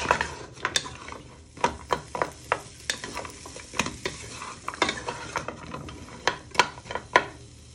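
Onions and other vegetables for a winter vegetable soup being tossed and shaken in a hot pan, giving a run of sharp scraping, clattering knocks at an uneven rhythm over a soft background sizzle, close up with no talking.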